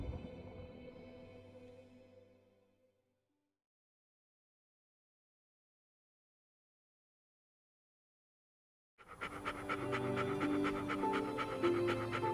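A heavily pregnant golden retriever pants steadily just before giving birth, a close rhythmic breathing that fades out and then returns after a long silence.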